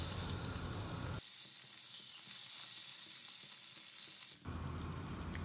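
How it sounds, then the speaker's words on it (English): Pabda fish pieces seasoned with salt and turmeric fry in a pan over a medium flame, giving a loud, dense, steady sizzle close by that dips quieter midway and then surges back, with no talking. "on medium flame we will fry them until they are fried deep golden brown"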